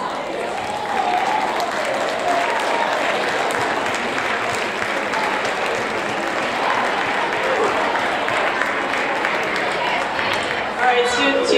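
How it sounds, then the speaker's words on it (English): An audience at a seventh grade awards ceremony applauds honors students, a dense, steady round of clapping that fills the hall for over ten seconds, with a few louder claps near the end. "Let's give them all a round of applause."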